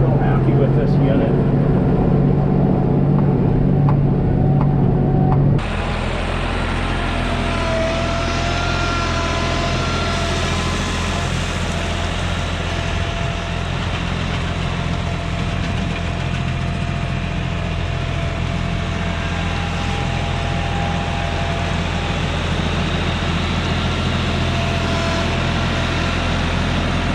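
A loader engine runs at steady high revs while scooping gravel, loud and continuous, with a low drone under a mid-range whine for the whole stretch.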